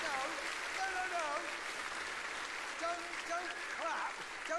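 Studio audience applause during a motoring entertainment show, a broad steady wash of clapping with cheering voices rising over it.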